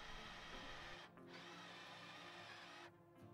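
A drill runs steadily while drilling out spot welds on the rusted bodywork of a Nissan 100NX, giving a continuous whirring motor whine with a brief dip in speed, close but fairly quiet, with no talking.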